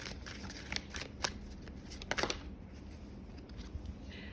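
Tarot cards being shuffled by hand for an advice reading, a run of soft riffling flutters and sharp card snaps close by, busiest early and fading to a quieter rustle, with no talk.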